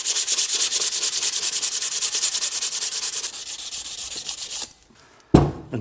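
A BMW E36 188mm limited-slip differential housing is hand sanded with 240 grit sandpaper in quick, even back-and-forth strokes, a loud close rhythmic rasping that slows, pauses briefly, then resumes with one more scrape.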